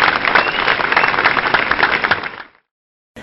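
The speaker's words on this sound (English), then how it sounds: "That was applause, in case you were wondering." Burst of applause from an audience at a talk, loud and dense clapping that runs steadily for about two and a half seconds, then cuts off abruptly into silence.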